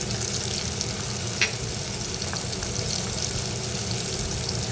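Tomato masala cooks in a pan for a soybean pulao, giving a steady, close frying sizzle with a faint scrape of stirring near the middle and no voices.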